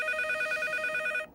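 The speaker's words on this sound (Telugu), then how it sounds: "ఇదేంటి ఫోన్ రింగ్ సౌండ్ వస్తుంది?" Telephone ringing in a comedy scene, a steady electronic trill pulsing repeatedly at close range for just over a second before cutting off abruptly, with no talk over it.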